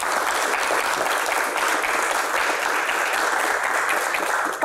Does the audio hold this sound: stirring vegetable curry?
no